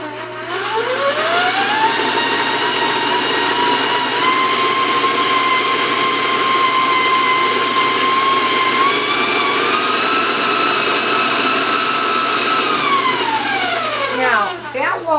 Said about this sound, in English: And now I'm going to turn my mixer on to start creaming the melted butter and the brown sugar and the granulated sugar.